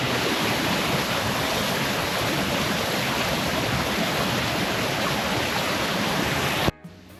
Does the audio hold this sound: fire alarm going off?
no